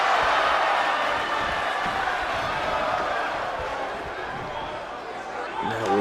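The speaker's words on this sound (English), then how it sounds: "She has the crowd pumped up." Loud, sustained wrestling arena crowd roaring and cheering throughout, a dense wash of voices with excited commentary running over it and a slight swell near the end.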